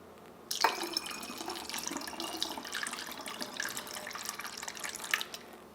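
Filtered water poured into a glass jar of lemon peels and vinegar for a homemade cleaner, a steady close splashing trickle running for several seconds with no talk.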